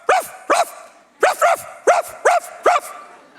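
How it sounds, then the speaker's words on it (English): A dog-bark alarm sounding from a phone at 5 a.m., repeating sharp electronic woofs in quick pairs and singles, about eight barks, close and loud with nothing else heard. "She decided that the way she wanted to wake up in the morning was with a barking dog alarm"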